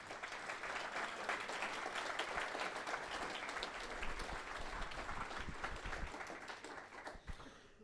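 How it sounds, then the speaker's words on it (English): An audience gives a sustained round of applause for the panel speakers at a sales event, steady dense clapping filling the room for nearly eight seconds before tapering off at the very end. "let's give the speakers a round of applause"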